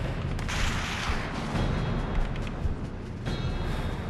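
Dense, continuous gunfire and booming blasts in Call of Duty: World at War, with a constant rumbling background, steady and loud throughout with no pauses.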